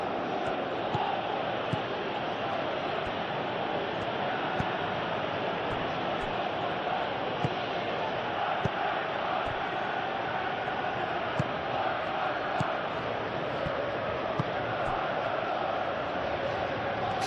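Steady stadium crowd noise from the PES 21 football video game during a simulated Chelsea vs Brentford Premier League match, a continuous broad roar with faint scattered clicks throughout, no clear speech.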